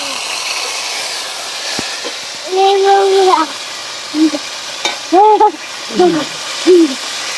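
A bird calls with low, hooting notes in short repeated bursts, some drawn out and some clipped, over a faint steady hiss.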